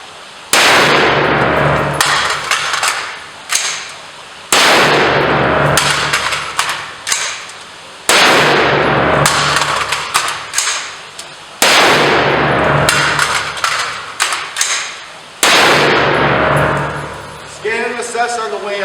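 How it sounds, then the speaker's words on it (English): Carbine reload drill with an AR-style rifle: loud sharp metallic clangs and bursts of shots in several separate groups, each followed by ringing decay, with short quiet gaps between strings and voices mixed in. "Magazine goes in, tap, tug, charge, press check, forward assist, wheels and dust cover."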